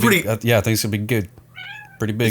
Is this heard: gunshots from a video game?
no